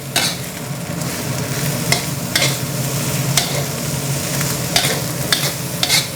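Chinese kale stir-fried in a wok for Thai dark-soy fried rice, a loud close sizzle with repeated sharp scraping clatters of the spatula tossing the greens, no voices.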